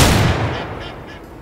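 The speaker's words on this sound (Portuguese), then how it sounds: "Vou atirar. Vou atirar." A single loud shotgun-style blast fired at a wild duck in the hunting video game Way of the Hunter, a sharp crack fading into a long echoing tail, with no talking.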